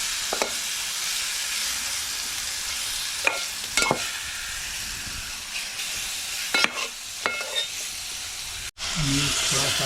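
Fish sizzles steadily in hot oil in a pan, a broad close hiss, while a spoon stirs it with a few scraping clinks. A brief pause comes near the end before the frying picks up again.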